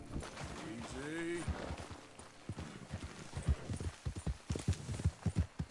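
A horse gallops in Red Dead Redemption 2, rhythmic hoof clip-clops growing louder and quicker after a brief whinny, with a voice talking over the start.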